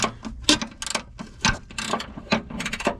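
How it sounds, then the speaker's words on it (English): A 3/8-inch long ratchet turns a nut in a very tight space while removing the upper control arm on a 2002 Jaguar S-Type, giving close, loud bursts of rapid metallic clicking in short uneven strokes. "3/8 long ratchet, because you see you don't have no room to get a 1/2 inch in here"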